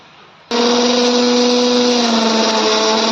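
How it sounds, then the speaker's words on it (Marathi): A mixer grinder grinding coconut starts abruptly and runs loud and steady, a high motor whine with a constant grinding roar throughout. "आता मी मिक्सरमध्ये बारीक करून घेते"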